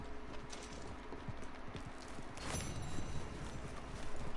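Horse hooves clip-clop steadily in Red Dead Redemption 2, a quiet rhythmic clatter over a soft outdoor ambience with no talking.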